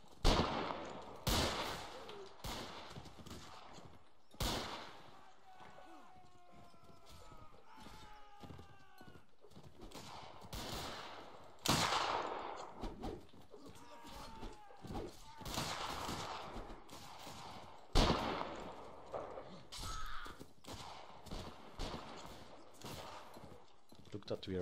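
Musket volleys and scattered rifle shots in a Mount & Blade Anglo-Zulu battle, sharp cracks in irregular bursts over distant battle clamour, with a voice talking at times.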